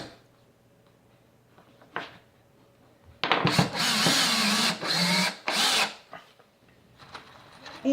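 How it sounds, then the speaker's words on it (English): A power drill with a Phillips bit drives 1¼-inch screws into wood for a homemade soap mold, whirring in a few close, loud bursts after a quiet start. "put in the Phillips head, and we are going to take some 1¼ and drill these into place."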